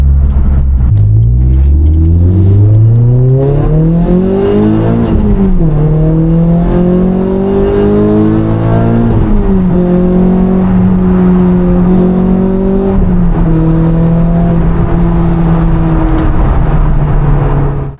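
A Renault Clio 197 fitted with a Sprogley STX induction kit revs loudly and close, its engine climbing and falling through several sustained pulls with a throaty intake growl and no talking.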